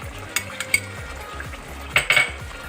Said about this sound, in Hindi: और हम इसको अच्छे से मिक्स करेंगे